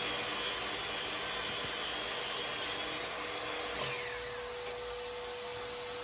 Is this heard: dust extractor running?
yes